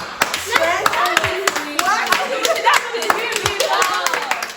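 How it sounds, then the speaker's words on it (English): Audience clapping during a talk about family relationships, a lively burst of many hands with sharp overlapping claps, accompanied by murmuring voices and cheers throughout. "can we just clap for her?"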